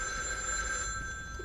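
A telephone in the horror video game The Evil Within 2 gives a single ring, a thin metallic bell tone sustained faintly over low room ambience.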